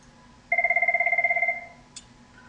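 One trilling burst of a telephone ring, about a second long, from an automated call-back system dialing out, followed by a faint click.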